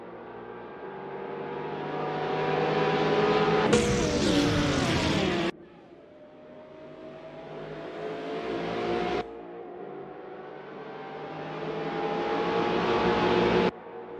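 GTR race cars screaming around Macau City Circuit in a racing game, engines rising in pitch through the gears with a sharp burst as one car passes close, then fading and building again.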